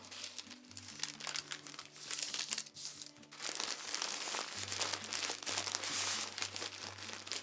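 Tissue paper crinkles and rustles steadily as it is folded around a woven wall hanging for packaging, a close, continuous crumpling with brief pauses and no talking.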